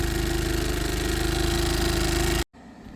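A Piaggio Fly 100cc scooter engine idles steadily while warming up, a close, even thrum that cuts out abruptly near the end.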